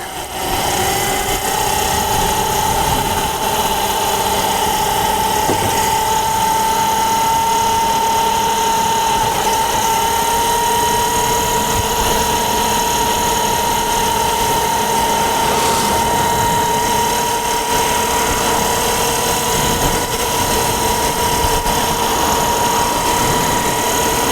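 The electric motor of a Kuberg Freerider e-bike whines steadily at a high pitch, rising slightly as it accelerates along a muddy, snowy trail, with constant wind and tyre noise and no voices.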